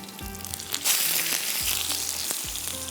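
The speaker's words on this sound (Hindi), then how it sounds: "यहाँ पर मैं इसको फ्राई करूँगी" Chicken chapli kebab patties frying in a pan of hot oil, a steady close sizzle with a few clattering utensil knocks and brief bursts of louder spitting.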